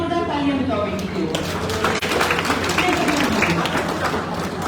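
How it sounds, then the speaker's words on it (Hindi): Classroom audience clapping for a student at a coaching centre, a dense, steady wash of applause running throughout with a few thuds and voices mixed in. "इसके लिए जोरदार तालियां बजाओ बेटी की"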